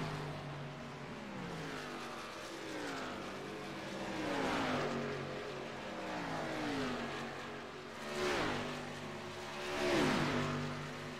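NASCAR Xfinity Series stock cars race around an oval track, roaring past in a line of several cars with rising and falling engine drones that swell loudest near the end.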